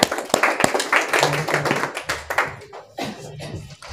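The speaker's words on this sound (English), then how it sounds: "Can we clap for them?" An audience claps for people at a spoken English lesson: a scattering of sharp, uneven hand claps that never settles into full applause, with faint room sound between the hits.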